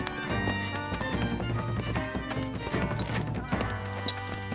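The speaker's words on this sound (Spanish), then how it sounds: "¡Qué maravilloso caballo!" Horse hooves clip-clopping in a steady rhythm, mixed with a dense musical score in a period court scene with a royal horse, fairly loud throughout.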